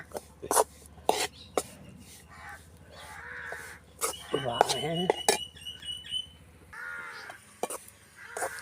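Ingredients for vanilla barfi are dry-roasted in a pan at a village cookout, with sharp scraping and clattering strokes of stirring in irregular bursts, crows cawing nearby, and a quiet voice in the background.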